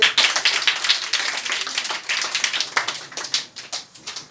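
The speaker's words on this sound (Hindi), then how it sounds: "Very good, Tali बजाइए।" Schoolchildren at a school inauguration clap together, a lively burst of many small hands that starts loud and gradually thins and fades, with uneven rhythmic peaks.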